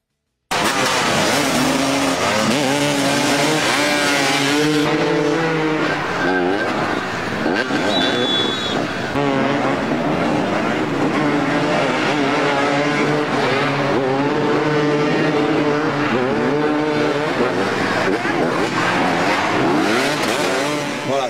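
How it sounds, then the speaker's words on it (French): Motocross motorcycle engines rev and whine continuously during a motoball match, rising and falling in pitch, with a crowd-like roar and voices mixed underneath throughout. "du sport motorisé avec des motos de motocross"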